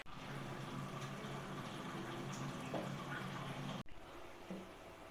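Water is poured into frying curry gravy for nargisi kofta, a continuous faint rushing and sizzling hiss lasting several seconds, then a brief break and quieter bubbling.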